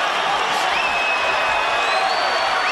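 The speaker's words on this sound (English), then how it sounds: "And the crowd stands and cheers Roy Jones." Boxing arena crowd on its feet cheering for Roy Jones Jr. after his fight with John Ruiz, a steady dense roar of distant voices and whistles that holds without a break.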